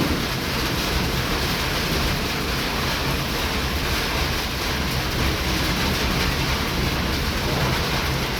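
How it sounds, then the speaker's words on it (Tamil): Heavy rain falling in the season's first downpour, a dense, continuous loud roar of broadband noise with no pauses. "இன்றைக்கு தான் முதலாவது மழை இப்படி பெய்யுது."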